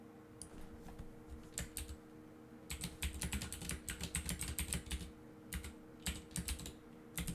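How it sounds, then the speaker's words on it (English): Keys tapped on a computer keyboard while entering a password, a quiet, close run of irregular clicks in short bursts with pauses between, over a faint steady hum. "I'll just enter my new password in here."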